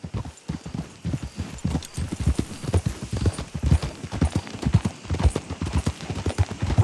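Rapid, steady hoofbeats of a horse galloping in Red Dead Redemption 2 drum close and loud in a continuous clip-clop rhythm throughout.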